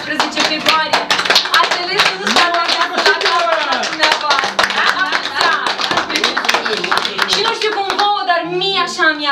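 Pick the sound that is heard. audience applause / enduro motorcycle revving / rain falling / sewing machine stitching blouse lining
audience applause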